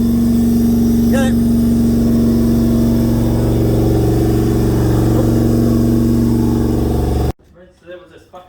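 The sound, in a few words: Toyota 1UZ-FE V8 engine running and revving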